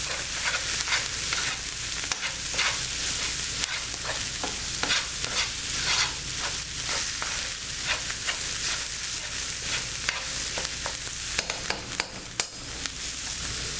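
Flour being stirred into a hot pan with oil for homemade chicken enchilada sauce, a steady close sizzle and frying hiss broken by repeated scraping strokes of the spoon across the pan, with no voices.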